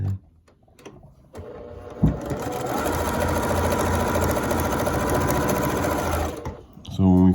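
An electric sewing machine stitches a quarter-inch quilt seam joining fabric strips, its motor whirring in a steady, fast mechanical chatter for about four seconds, close and loud, starting and stopping, with a voice speaking briefly at the end.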